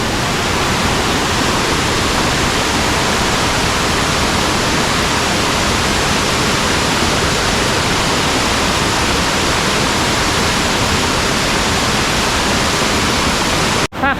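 Tad Thong waterfall, hidden in the forest near Luang Prabang, Laos: a loud, unbroken rush of falling water filling the whole clip, steady and close, with no voices.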